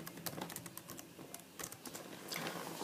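Keys tapped on a device keyboard while entering a web address, a quick irregular run of light clicks at moderate distance, with no one speaking over them.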